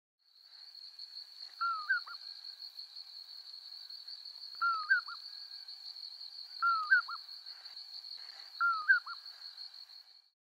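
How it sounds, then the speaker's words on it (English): Common poorwill calling four times at steady intervals, each a short clear two-note phrase, moderately close, over a constant high thin whine in the background. "And now the sound of the common poorwill."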